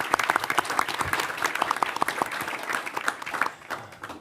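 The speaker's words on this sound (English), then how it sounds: "Let's give her a round of applause," Lively audience applause at a mayoral announcement event, a dense burst of clapping from a room full of people that stays strong, then thins out near the end.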